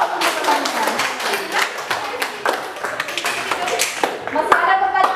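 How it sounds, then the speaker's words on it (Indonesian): Students in a classroom clap together in a dense burst of applause, sharp hand claps layered and sustained throughout, with some scattered taps toward the end. "Berikan aplaus untuk pertanyaan."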